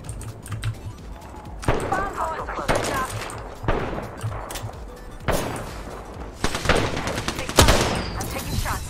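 Gunfire in the video game Apex Legends: bursts of automatic weapon fire in several loud clusters, mixed with sharp clicking and some voice underneath.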